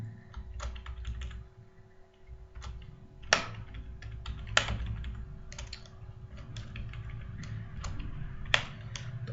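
Typing code on a computer keyboard: steady close clicking keystrokes with a few sharper, louder key hits, continuous and alone over a faint steady hum.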